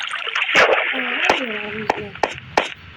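Water is poured in the Craft World video game: short splashes and sloshing bursts come in quick succession under a talking voice.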